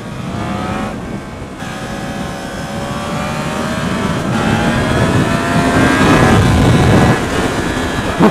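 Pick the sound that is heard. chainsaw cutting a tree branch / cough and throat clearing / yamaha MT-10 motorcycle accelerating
yamaha MT-10 motorcycle accelerating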